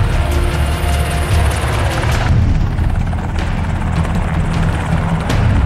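Dramatized sound effect of two military helicopters arriving over a compound at night, a loud continuous thudding rotor roar with deep low rumble and occasional booming swells, sustained throughout without speech.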